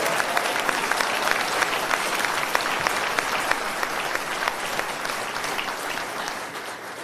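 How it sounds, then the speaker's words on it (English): Audience applause at a Reform UK political speech in South East England, steady loud clapping from a large crowd filling the hall throughout, easing slightly toward the end. "let's give Kemi a big round of applause from all of us at Reform"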